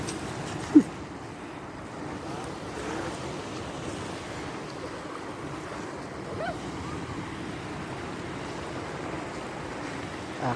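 Sea waves roll and wash steadily on a rough, windy shore, a broad continuous surf noise with wind buffeting the microphone and a brief knock early on.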